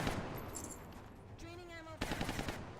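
Rapid gunfire bursts from soldiers in the strategy game XCOM Long War, a sharp crackling volley near the start and another burst at the end, with a tonal game effect in between.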